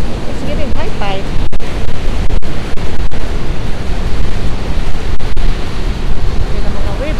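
Big high-tide ocean waves break along the California coast, making a loud, continuous roar of surf mixed with heavy wind buffeting the microphone, while a voice speaks faintly underneath.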